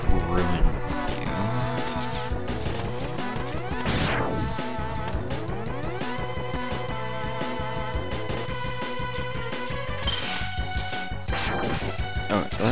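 Glass shattering and crash effects in the video game Mega Man X, with repeated smashing hits over a busy, continuous game soundtrack of layered tones and sweeps.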